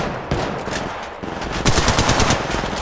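Rapid automatic gunfire in Apex Legends Mobile, dense bursts of close, loud shots rattling almost continuously, pausing briefly before a heavier, faster volley.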